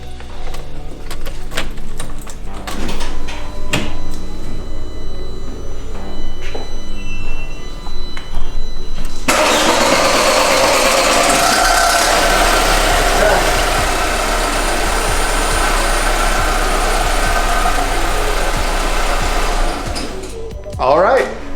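After a fuel filter replacement, a car engine cranks and catches, then settles into a loud, steady idle close by. Clicks and handling noises come first, and a voice is heard briefly near the end.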